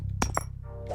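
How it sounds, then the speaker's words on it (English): Gold bar dropping in a video game, a resource item sound effect: two bright metallic clinks in quick succession, close and clean, over a low steady hum. "You can hear from this gold bar right here."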